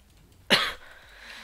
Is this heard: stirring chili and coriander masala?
no